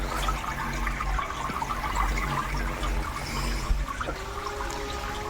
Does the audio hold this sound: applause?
no